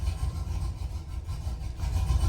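A car engine with a swapped, bigger camshaft and no tune idles roughly and unevenly nearby, its low rumble lurching and sagging as if close to stalling.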